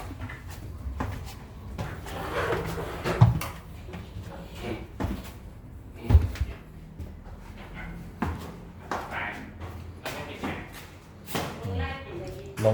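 A sliding door in a house thuds open or shut with a couple of sharp knocks among shuffling footsteps, while a person keeps talking throughout.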